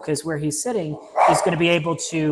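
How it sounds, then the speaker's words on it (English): Dog barking in the background during talk: a few short barks and yips mixed under a man's steady speech, fairly close and moderately loud. "you might hear my dog barking in the background for some reason"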